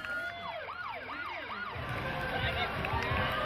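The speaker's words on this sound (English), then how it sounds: "a very noisy ambulance" An ambulance siren wails in a rapid up-and-down pattern at a pride parade in Auckland, fairly close, then fades as a low rumble of traffic or crowd noise rises.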